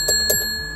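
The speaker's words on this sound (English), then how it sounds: "a bell for when you're being a bit friendly" The handlebar bell on a recumbent trike velomobile gives two quick bright dings with a lingering metallic ring, close and fairly loud.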